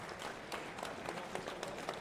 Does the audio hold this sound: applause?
yes